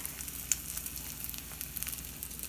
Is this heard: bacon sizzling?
yes